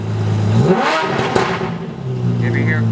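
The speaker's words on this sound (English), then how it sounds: "You ever hear a car that good sounding for an Aston?" A heavily modified Aston Martin Vanquish engine revs hard through its exhaust, rising in a loud, rasping sweep before settling back to a deep idle, with someone talking over it.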